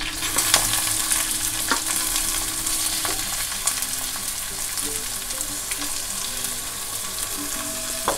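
Green chillies and onion frying in hot oil for a methi bhaji, a constant crackling sizzle with occasional sharp pops and stirring clinks, close and even throughout.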